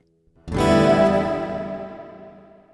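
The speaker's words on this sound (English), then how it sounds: "hall reverb," A single chord on a Donner Hush-I Pro electric travel guitar rings out with a hall reverb, its spacious tail fading slowly over about two seconds.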